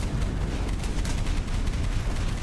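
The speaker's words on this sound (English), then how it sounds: "Suffering an absolute storm of gunfire from the coastal boats." In the naval combat game Boat Crew, coastal boats unleash a dense, continuous barrage of gunfire, a rumbling wash of overlapping shots and booms with no clear gaps, loud and steady throughout.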